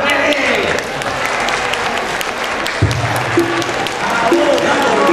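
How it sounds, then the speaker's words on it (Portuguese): A live crowd applauds and cheers to welcome a sertanejo singer, loud and continuous, with shouts and voices rising over the clapping throughout. "palmas pra ele"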